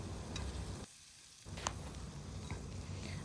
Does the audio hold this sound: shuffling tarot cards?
no